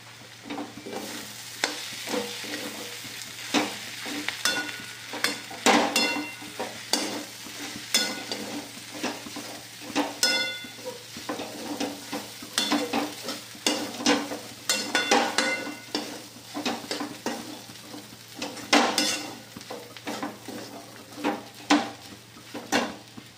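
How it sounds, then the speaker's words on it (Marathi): Mashed taakla greens being stirred and sautéed with dal in a pan: a long run of close, steady spatula scrapes and clinks over a soft continuous sizzle, with no voices. "मॅश केलेली ही भाजी टाकत आहोत। पुन्हा परतून घेणार आहोत।"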